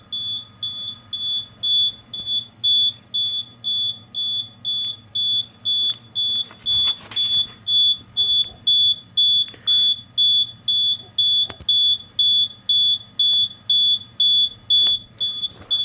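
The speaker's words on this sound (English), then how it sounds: "Back to the panel, you can see that it's starting to beep." An FX-10 fire alarm panel emits a steady series of short, loud, high-pitched beeps at a regular pace, repeating cleanly with almost no other sound around them.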